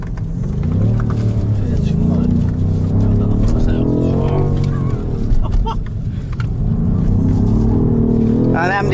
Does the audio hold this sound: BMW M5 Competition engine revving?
yes